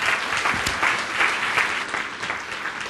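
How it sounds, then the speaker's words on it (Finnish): Audience applause at a human rights lecture on social and health care structures, a continuous crisp patter of many hands clapping at steady strength for a few seconds. "Annetaan taputus vielä."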